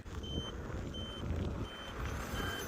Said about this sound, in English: That beeping you hear, that's Miko's remote.